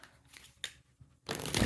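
Tarot cards are shuffled in soft, brief riffles, then a louder, denser burst of card flutter toward the end, close and fairly quiet overall.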